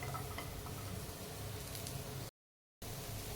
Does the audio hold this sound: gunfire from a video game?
no